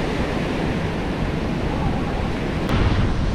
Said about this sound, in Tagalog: grabe kasi yung lakas ng alon